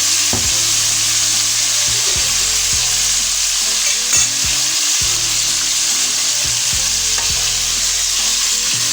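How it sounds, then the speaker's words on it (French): Fish pieces frying in hot oil with fresh tomato, onions, young onions and chopped bell pepper, a loud steady sizzle throughout with repeated clattering stirring knocks close by. "Une fois mes morceaux de poisson bien disposés dans l'huile, j'ajoute de la tomate fraîche, des oignons, des jeunes oignons et du poivron bien découpés."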